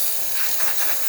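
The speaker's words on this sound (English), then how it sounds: "You can see all that steam coming out from this beautiful Silvia." Steam hisses from the boiler of a Rancilio Silvia espresso machine in a loud, continuous, broadband rush that holds steady through the moment without a pause.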